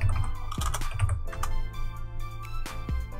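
A computer keyboard is typed on at close range, with a quick run of light clicking keystrokes and a few louder taps over a low steady hum.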